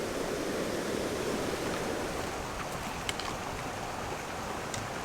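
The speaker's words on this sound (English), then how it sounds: "that water is raging" A raging mountain stream rushes in a dense, constant broadband roar beside a woodland hiking trail, steady and unbroken throughout with no voices.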